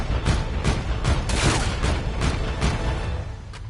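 Rapid, loud gunfire from Call of Duty: Infinite Warfare multiplayer, a dense run of sharp shots with booming impacts that continues steadily throughout, with no talk.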